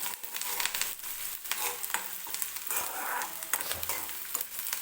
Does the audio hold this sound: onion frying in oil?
yes